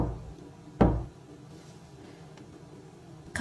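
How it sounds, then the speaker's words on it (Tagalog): Two dull knocks sound on a bed frame, well separated: one solid thump early on and another near the end, with near-silence between them. "makarinig ako ng 2 katok mula sa kama ni Kuya"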